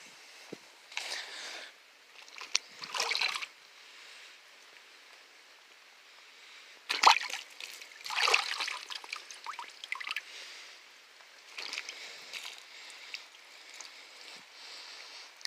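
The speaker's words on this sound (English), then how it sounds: "Wait for the bubbles to stop." A newspaper soaked in a tub of water gives off bursts of fizzing, bubbling water noise that come and go in uneven clusters, heard up close with no talking.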